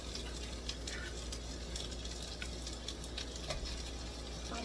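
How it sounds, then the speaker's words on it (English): Potatoes fry in a pan with a steady, soft sizzle and occasional crackling pops, heard close and continuous with no talking. "I'm just gonna toss these potatoes in here and just keep frying them"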